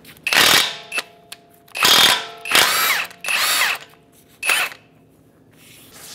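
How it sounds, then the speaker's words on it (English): Impact wrench with a 36 mm socket removing the front axle nut on a 2007-2013 Acura MDX, five loud bursts of whirring hammering, each lasting about half a second, separated by short pauses. "With a 36 millimeter socket, we'll go ahead and remove the axle nut."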